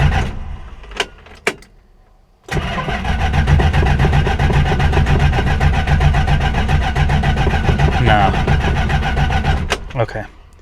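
A stranded car, left blocking traffic, cranks loudly after a few soft clicks, with a sustained churning starter whir that never catches and ends in a few clunks. A voice speaks faintly near the start.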